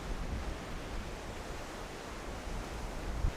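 Ocean waves roll in on a rocky shoreline in a steady, broadband wash of surf with some wind, holding an even level with no distinct breaks and no voices.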